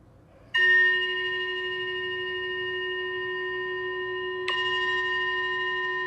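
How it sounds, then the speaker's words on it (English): A meditation bell sounds one clear, sustained tone that rings on and fades slowly. It is struck a second, slightly softer time a few seconds later, and the room is otherwise quiet with no speech. "the bell is coming in about 2 seconds"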